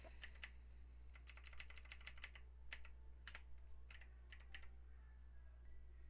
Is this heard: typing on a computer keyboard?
yes